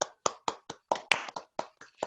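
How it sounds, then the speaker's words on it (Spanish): Applause at the close of an online webinar on digital transformation: about ten sharp, evenly spaced hand claps over two seconds, close and clear with silence between them, as if from a single person. "un fuerte aplauso para todos nosotros."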